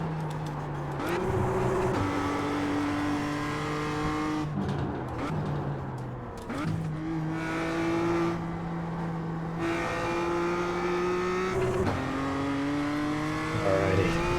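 A Formula 1600 race car engine on track at Rudskogen drones steadily at speed, with pitch rising through each gear and dropping at shifts, heard close from the cockpit over wind noise.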